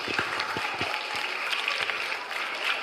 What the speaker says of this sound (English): can we put a round of applause?